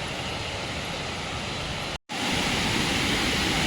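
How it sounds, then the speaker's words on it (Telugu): A waterfall in the misty hills of Valparai, heard as a loud, unbroken broadband roar that drops out for a moment before resuming just as strongly. "ఇక్కడ ఒక వాటర్ ఫాల్ సౌండ్ వినిపిస్తుంది కదా"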